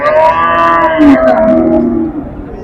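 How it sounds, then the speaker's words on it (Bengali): Cows at a large village cattle market moo loudly and close by, one long, drawn-out bellow that falls in pitch before fading, with faint market bustle behind. "খুব সুন্দর সুন্দর গাভী গরু ভাঙ্গুড়ার সৎনগর হাট থেকে দেখতে পাচ্ছেন"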